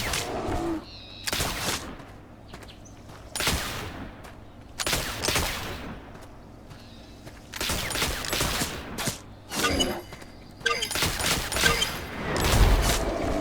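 Repeated gunshots in The Oregon Trail (2022) crack out in short separate bursts every couple of seconds, fairly loud against a quiet background, with no talking over them.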